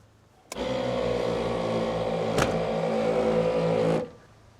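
The onboard air compressor of a Land Rover Defender switches on abruptly and runs with a steady, loud motor drone that has a strong harmonic hum, then cuts off after about three and a half seconds. It is close and there is no talk.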